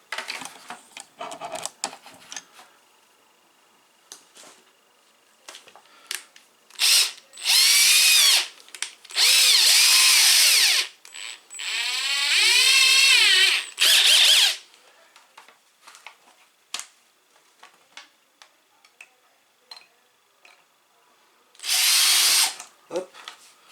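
Power drill boring a hole through a Super Nintendo plastic case for a power LED mod, with several loud whining bursts between quieter handling clicks and rustles, close up.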